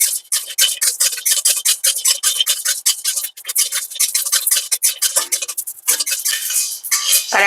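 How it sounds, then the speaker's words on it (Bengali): Whole spices for homemade biryani masala, including nutmeg, fry in a pan on a gas stove, giving dense continuous crackling and sizzling with sharp pops throughout, close and fairly loud, with no talking. "বেশ চিরবির চিরবির করে আওয়াজ হচ্ছে, তার মানে মশলাগুলো কিন্তু অলরেডি ভাজা হচ্ছে"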